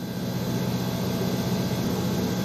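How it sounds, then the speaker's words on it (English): Steady, even drone of an airport ground power unit running in Airport Sim, a constant engine hum with a faint high whine, loud and unbroken, with no voices. "the GPU should now be warmed up and ready for operation"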